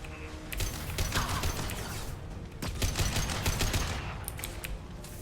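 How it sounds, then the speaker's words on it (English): Rifle fire in Mass Effect 2, dense rapid bursts of loud gunshots layered with crashing impacts and mechanical clatter, continuous for several seconds with a brief lull midway. "Firing a high-impact shot."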